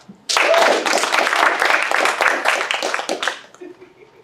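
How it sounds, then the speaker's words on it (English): An audience breaks into loud, sustained applause as a crowd answers a trust poll at a live science comedy show, the dense clapping starting abruptly and fading out after about three seconds. "Clap."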